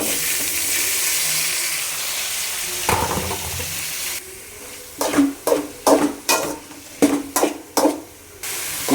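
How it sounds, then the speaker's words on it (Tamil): Vegetables sauté in a hot pan with a steady sizzle, followed by a run of rhythmic stirring scrapes and clatters that rise and fall several times. "காய்கறிகளை போட்டு வதக்கப் போகிறோம்"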